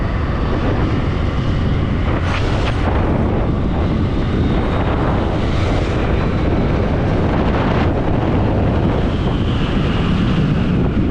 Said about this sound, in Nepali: कत्रो हावा आमा